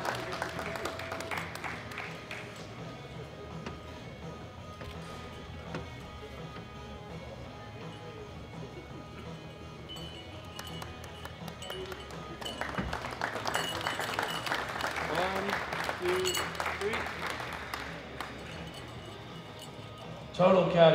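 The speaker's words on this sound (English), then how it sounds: "Give him a round of applause." Steady applause rings out for medal winners at a world classic powerlifting championship, filling a large hall for about twenty seconds and swelling toward the end, while an announcer's voice speaks over it.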